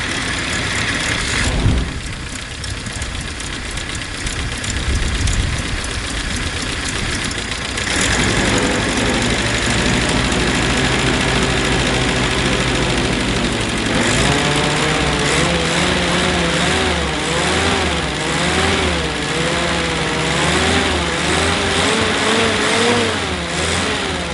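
A WW2 Jeep engine running while low on coolant, loud and close throughout, shifting from rough idle into revving and back with a constant mechanical drone.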